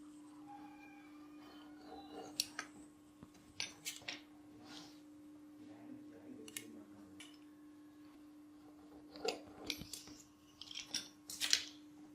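Scissors snipping the extra edges off samosa pastry sheets, a handful of short, crisp cuts spread through a quiet kitchen, with a steady low hum beneath.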